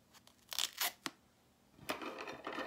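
Scissors snip through a post-surgery bandage on a hand in a few quick, close cuts and tearing rasps, followed by a pause and then a longer stretch of rustling fabric.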